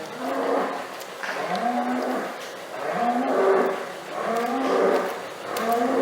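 Dairy cows mooing at morning milking time, a series of long, loud, drawn-out lowing calls repeating every second or so. The calls overlap one another close by in a barn holding area, with no talk.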